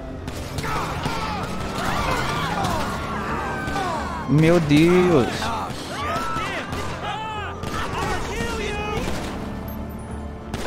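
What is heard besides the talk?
gunshots in GTA V video game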